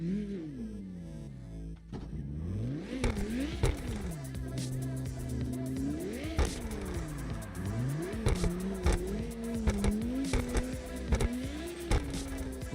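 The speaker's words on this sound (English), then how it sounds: "Gotta start the car back up first." A Toyota Crown in the CarX Drift Racing video game starts up, then revs repeatedly, its engine pitch sweeping up and down in rising and falling surges with intermittent tire noise, loud and continuous for about thirteen seconds, with no talk.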